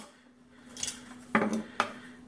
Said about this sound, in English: And now we're just going to go ahead and slice up this tenderloin.